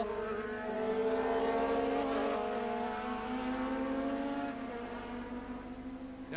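Formula One and racing cars from the 1983 International Trophy at Silverstone, climbing the rise after Copse toward Maggots and Becketts, produce a loud, sustained, rising and falling engine howl as several cars pass, with no talk over it.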